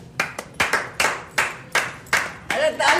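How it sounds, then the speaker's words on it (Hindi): A few people clap at an indoor cake cutting, loud sharp bursts of clapping in uneven spurts with short gaps between them, close by, while voices chatter over the clapping. "अरे केक अच्छा ताली हो जाइए।"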